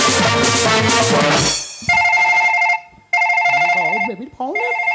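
A telephone ringtone cuts through a Gajon folk stage performance: loud music first, then repeated steady electronic ringing tones in bursts with short gaps, a voice briefly heard between them.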